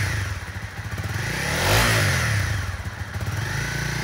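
A used 2017 Honda CRF250L Rally dual-sport motorcycle runs with a steady engine note that swells in a single rev near the middle before settling back, heard alone at moderate loudness.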